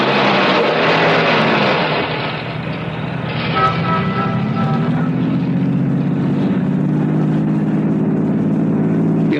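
A car engine runs steadily and loudly as the vehicle drives off in a radio drama effect, with a continuous drone that shifts in pitch as it picks up speed.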